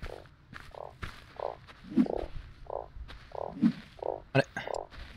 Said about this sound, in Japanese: カエル、あ、カエルいた。